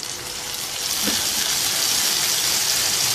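Chopped tomatoes and ginger garlic paste sautéing in a pan for dhaba-style chana daal, a steady close hiss and gush of wet sizzling that swells slightly after the first second, with no talking.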